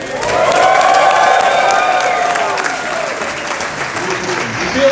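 A standing-room-only crowd at the Mercantile Center bursts into loud, sustained applause and cheering that swells early and slowly fades, with shouts mixed into the clapping.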